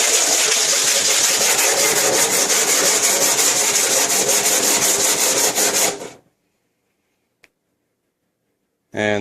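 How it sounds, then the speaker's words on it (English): Hand sanding on a cracked car front bumper gives a loud, rapid run of rhythmic rasping strokes, close up, that stops abruptly partway through and leaves near silence apart from a single faint click. "And it actually helps with actually sanding a little quicker too."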